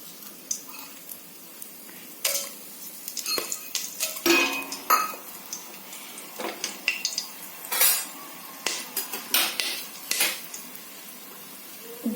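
Whole spices such as cinnamon, cloves, cardamom and bay leaves go into hot oil in a kadai for mutton curry, giving scattered clinks and scrapes of a metal pan and utensil over a faint sizzle, close by.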